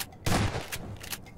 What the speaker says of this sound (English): I'm just gonna go in for a kill with the shotgun